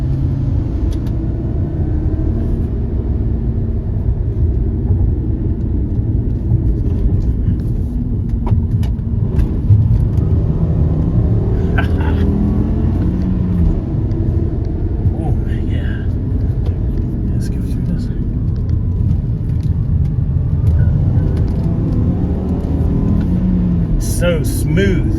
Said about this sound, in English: I love the sound of a 5-cylinder engine ever since I had my Audi Turbo years ago.